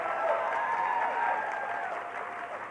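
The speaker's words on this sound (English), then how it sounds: "Again, let's give a round of applause" An audience at an arts council evening event in Fayetteville, North Carolina, applauds a sponsor: a steady wash of clapping with a few whistle-like tones rising over it, moderately loud and continuous.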